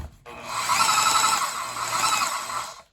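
A Milwaukee Super Sawzall reciprocating saw runs steadily at a slow variable speed, giving a close, sustained mechanical buzz that rises, holds for about two seconds and then stops.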